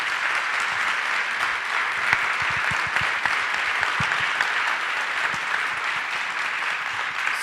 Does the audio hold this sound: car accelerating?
no